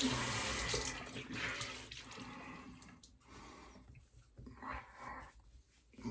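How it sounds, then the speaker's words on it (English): Running tap water splashes into a sink as someone rinses off after a shave, a steady close wash with faint movement. "We'll rinse off real quick."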